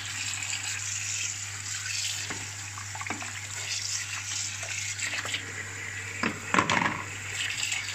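Tripe being washed under running water for Turkish işkembe soup, a steady broadband tap flow with splashing and handling bursts, close and continuous, no talking.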